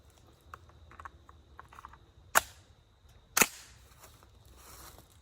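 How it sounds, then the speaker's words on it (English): Two suppressed 9mm subsonic shots from a Kel-Tec Sub 2000 carbine, each a sharp, short crack about a second apart with light mechanical clicks between them, nearby and otherwise quiet. "Take a couple shots here and see what we think."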